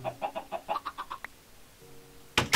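Chickens in a Minecraft chicken hut give a quick, even run of about ten short clucks, then a pause with a low hum and a sharp, noisy burst at the end.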